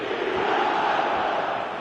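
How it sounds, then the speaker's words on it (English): A stadium crowd in the football video game eFootball 2027 roars in a steady, dense wall of cheering and chanting, loud and continuous throughout without letting up. "the crowd are reacting to that now"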